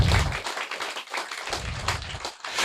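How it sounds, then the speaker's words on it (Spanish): Church congregation clapping during a Spanish-language worship service, a dense run of overlapping hand claps with a few louder strikes, fairly close and steady over nearly three seconds with no talking. "Dale palmas al Todopoderoso"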